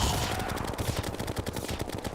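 Rapid automatic gunfire from chlorophyte bullets in Terraria, a steady fast stream of close, loud shots running the whole way through with no talking.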